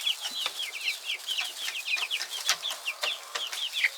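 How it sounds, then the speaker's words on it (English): Chickens on a ranch cluck busily in a rapid, overlapping chatter of short high calls, close by, with faint tapping from pecking at the walls mixed in. "Look at these crazy chickens pecking at the stuff on the walls."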